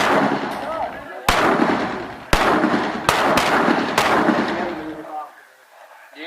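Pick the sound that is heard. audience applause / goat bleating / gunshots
gunshots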